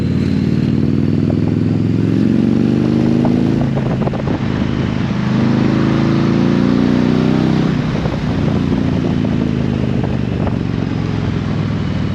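A 2022 Indian Challenger Dark Horse motorcycle accelerating hard, its engine a loud, steady, deep rumble close to the rider that rises and swells, with wind rush over it.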